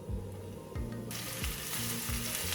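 Mushrooms drop into warm olive oil in a pan and break into a loud, bright sizzle partway through, with a few clinks and stirring knocks before and during, close and without talk.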